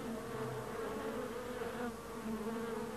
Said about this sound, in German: Andere Wespen machen sich zur Verteidigung bereit.